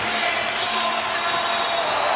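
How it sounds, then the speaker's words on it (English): A dense arena crowd roars and cheers continuously during a tied Boston Bruins versus Vegas Golden Knights hockey game in NHL 24, a steady wash of loud, massed voices with no breaks. "you can feel the energy in this crowd"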